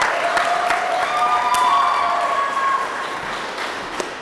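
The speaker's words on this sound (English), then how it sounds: "Let's give him a round of applause." Audience applause greets a contestant coming on stage at a high school play, a steady wash of clapping with a few scattered cheers that gradually thins out toward the end.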